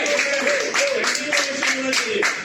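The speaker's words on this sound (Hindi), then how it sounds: "तो जोरदार तालियां त्रिकमर क्रांति के लिए." A crowd at a live event claps along, the steady patter of many hands running throughout, with speech and a voice's tonal line weaving through.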